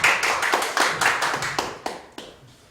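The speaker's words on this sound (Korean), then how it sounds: "다시 한번 큰 박수 부탁드리겠습니다" Applause at a charity love concert honouring a tenor: distinct, sharp hand claps in an uneven sequence, fairly close and loud at first, then tapering off.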